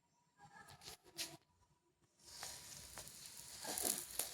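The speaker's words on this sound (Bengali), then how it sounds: "মিডিয়াম আঁচে ভেজে নেব" Mughlai paratha sizzles in oil in a wok over medium heat, starting with scattered crackles and then settling into a steady, louder sizzle that builds toward the end.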